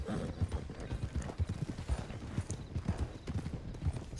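Rapid, rhythmic hoofbeats of a horse galloping steadily throughout, with a brief whinny mixed in, from the video game Red Dead Redemption 2; no talking.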